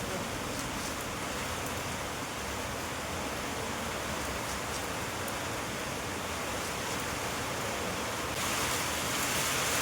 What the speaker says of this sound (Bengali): দেখো পুজোর আওয়াজ বৃষ্টি বুঝলো এরকম যে বৃষ্টিটা হবে ফট করে বোঝাই যায়নি